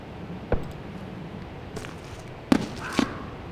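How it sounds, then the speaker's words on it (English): Random firework pops in the Dark Fall: Lost Souls video game, with three sharp, crackling bursts over a quiet ambient background, one near the start and two close together near the end. "Got some fireworks that go off randomly."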